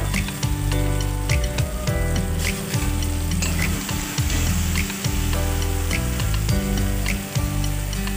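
Cumin and coriander powder fry in a hot pan for a vegetarian dish of winter vegetables and soybean chunks, giving a steady, close, continuous sizzle with a faint tonal hum running beneath it.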